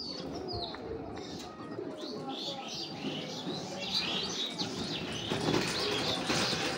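Racing pigeons in a loft, with soft low cooing and scattered chirps over a steady busy background, occasional wing flutters, and faint talk in the room throughout.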